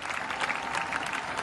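A concert audience applauds in a dense, even roar of clapping that holds steady for the whole moment, loud and close with no talk over it.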